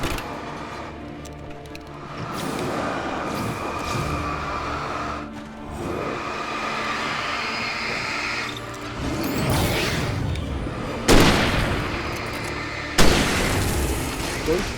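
Flare pistol shots in the video game Alan Wake Remastered fire as two sharp booming bursts late on, over game ambience and rumbling sound effects.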